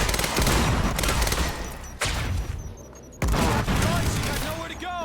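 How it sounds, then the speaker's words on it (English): Advanced SMG gunfire in the game Quantum Break, loud close bursts of rapid shots in three heavy stretches with short breaks, along with game voices. "Those hit marker sounds and shots are so satisfying."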